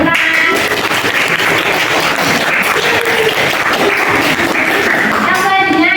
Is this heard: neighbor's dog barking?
no